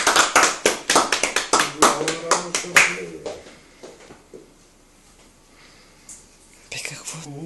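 Hands clapping at a child's sixth birthday party, a quick run of about a dozen close, loud claps that trail off into quiet, with whispered voices and a few scattered taps afterward.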